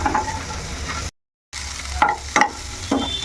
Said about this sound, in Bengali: এখন এই যে পেঁয়াজ আর ক্যাপসিকামটা এর সঙ্গে একটু সটে করে নেবো মিনিট 2-এর মতো